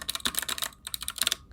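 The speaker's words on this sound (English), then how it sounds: "it's supposed to be very tactile and clicky" Rapid, close typing on a Redragon K615R 60% low-profile mechanical keyboard with blue switches, giving crisp, clicky, tactile keystrokes in a steady burst with a brief pause midway.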